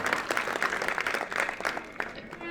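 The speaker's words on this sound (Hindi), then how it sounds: "मैं प्रशंसा करता हूं, जोरदार तालियों से प्रशंसा करता हूं।" At a religious discourse, a crowd applauds the actors performing a Ram play, a fairly quiet, slightly distant patter of clapping that thins out over a couple of seconds.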